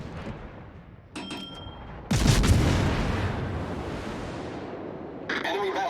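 Heavy battleship guns firing in World of Warships, a deep loud boom with a long rumbling tail, followed by another sharp report near the end.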